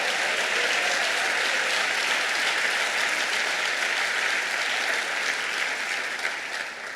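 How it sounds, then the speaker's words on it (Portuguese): A dense, sustained round of applause fills a church as the congregation claps continuously for several seconds, loud and even, thinning slightly at the end, with no voices on top. "Você pode aplaudir ao Senhor outra vez?"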